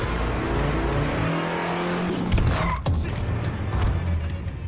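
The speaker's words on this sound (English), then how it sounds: "Freddy starts chasing him and hits him with his car" Car engine revving and accelerating hard as it chases down a jogger in the evening, a loud, close, steady roar with a sharper surge near the middle and no speech.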